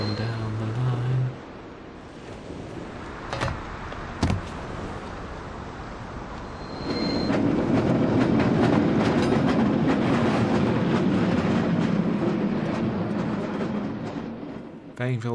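A freight train in the game Delaware St. John approaches with a few sharp clanks and then rumbles past loudly, with continuous wheel clatter over the second half while someone talks over it early on.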